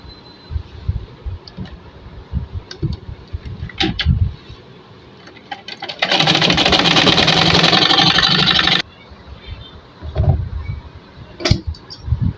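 Sewing machine stitching a half-inch elastic casing on a pyjama waistband, one steady loud whirring run of about three seconds between quieter handling noises and soft clicks.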